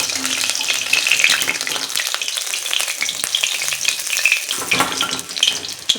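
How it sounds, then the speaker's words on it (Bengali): Pabda fish frying in hot oil, a steady dense sizzle with bright crackling spatters running throughout, close and fairly loud with no talk. "বন্ধুরা মাছটা ভাজা হয়ে গেছে"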